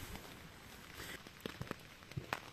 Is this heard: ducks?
no